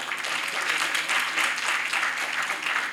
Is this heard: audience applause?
yes